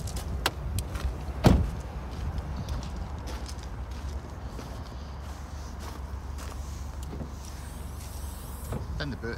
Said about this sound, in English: The boot opens up by either the key or the lever on the floor here.